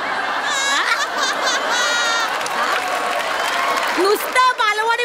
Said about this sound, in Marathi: नुसतं बालवाडी म्हटलं तरी टाळ्या वाजल्या रे